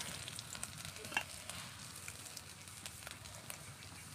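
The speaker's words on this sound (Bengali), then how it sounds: "এবার তেলের ওপর দিয়ে দিচ্ছি আদা কুচি" Finely chopped ginger hisses steadily in hot oil, a continuous close sizzle with small crackles and spatters throughout, no voices.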